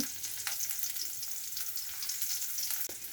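Chopped onion and green chili frying in oil in a second pan, a steady close sizzle with a few brief utensil clicks and no voices.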